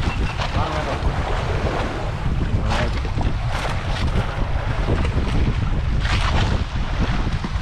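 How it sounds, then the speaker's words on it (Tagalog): Strong wind roars and buffets continuously across the microphone, with a rushing, wave-like background and no clear voices. "Hangin lang malakas na ngayon."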